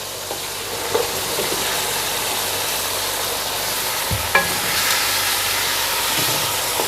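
Garlic, ginger and green chili paste frying in oil for beef yakhni pulao makes a loud, dense hiss that sizzles on steadily, broken by a few clatters of stirring.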